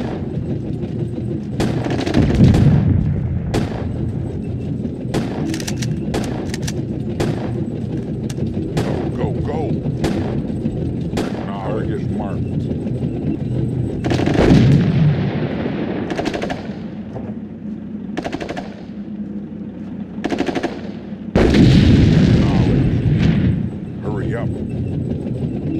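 Artillery shelling and gunfire in the World War II strategy game Sudden Strike 2, at the Battle of Anzio during an attack on the docks: repeated sharp blasts and bursts over a constant rumbling battle din, with several heavy booming impacts.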